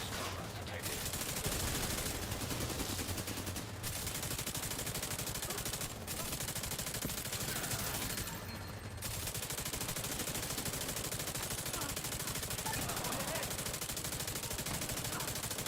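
Rapid bursts of automatic gunfire crackle in a shooter video game, running dense and loud for the whole stretch with brief gaps between volleys and a low rumble beneath.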